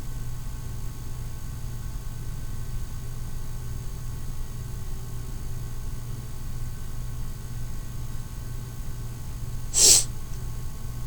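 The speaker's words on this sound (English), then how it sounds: "You get to hear ASMR of sniffles" One sharp, loud sneeze bursts out near the end of a quiet stretch of low background hum, with faint sniffling breaths beforehand and no talking.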